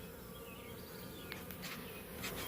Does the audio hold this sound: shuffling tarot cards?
no